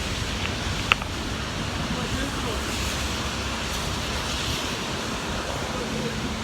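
Strong wind during a rainy day with flooding: a loud, steady roar of wind buffeting the microphone, close and continuous, with one brief sharp click near the start.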